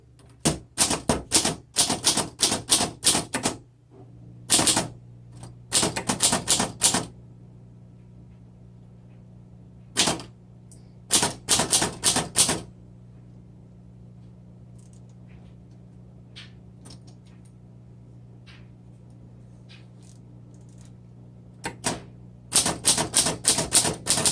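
Typing on a 1929 Underwood 4 Bank manual typewriter with a red ribbon, heard as close, loud bursts of rapid keystrokes separated by quiet pauses over a steady low hum, with the final burst running to the end.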